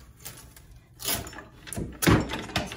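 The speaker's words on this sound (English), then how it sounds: "Let me shut the drawers." Wooden drawers on a dining room furniture piece are pushed shut, giving a quiet scrape followed by two distinct closing thuds about a second apart, heard up close with no talking.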